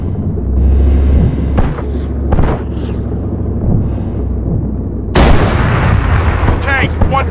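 Tank cannon fire in a battle between armored vehicles, with heavy booming blasts and sharp cracks, the loudest burst near the end followed by rumbling debris, over a constant engine drone and brief voices.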